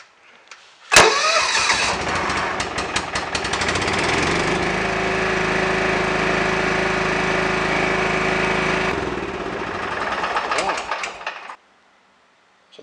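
A John Deere 175 lawn tractor engine cranks and catches, then runs at a steady idle with a constant low drone before cutting off abruptly, heard up close.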